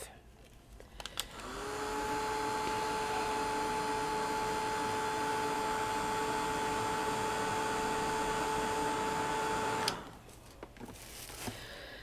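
A blower drying a glued part of a miniature sewing desk, a steady close electric whine that starts up, holds for about eight seconds and cuts off.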